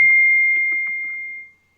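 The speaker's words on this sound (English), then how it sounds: "The little beep distracted me." A single small electronic beep rings out as a sustained steady tone that fades away after about a second and a half, with faint background murmur during a church service.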